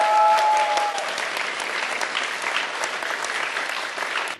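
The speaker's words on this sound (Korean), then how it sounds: "네, 큰 박수 한번 부탁드릴게요." Audience applause at a science quiz event held at the Korea Science Academy, a dense continuous clapping from a large crowd lasting the whole stretch, with a brief electronic tone at the start.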